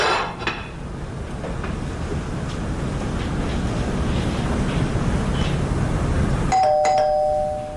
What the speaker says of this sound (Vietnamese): Có chìa khóa mà còn bấm chuông nữa